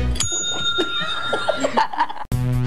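A small bell rings out sharply with a bright, ringing tone near the start, then fades under a faint, busy background, and a second clear, resonant ding arrives right at the end.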